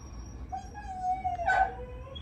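Household dogs whimper and yip at a husband coming in the door, with a thin whine rising into a sharp yelp near the end, fairly close indoors.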